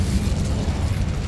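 An Incendio fire spell cast in Hogwarts Legacy erupts as a brief, loud, rumbling burst with a deep, booming body that fills the whole moment.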